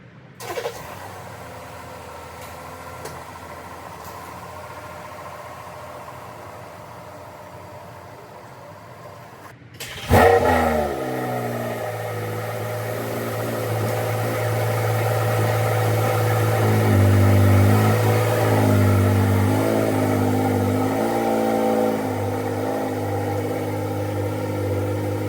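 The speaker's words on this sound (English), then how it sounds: "All right, so we're in the Audi now, and we're gonna do a quick little drive in this neighborhood." An Audi idles quietly inside the cabin, then the engine note swells after about ten seconds as the car pulls off and drives through a neighborhood, a steady mid-pitched hum with faint rattles and vibration.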